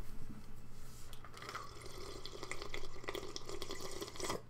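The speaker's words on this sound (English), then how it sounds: "Pour some water in this glass." Water poured into a drinking glass during a casual indoor recording, a steady splashing trickle with gurgling bursts that brighten toward the end, over a low background hum.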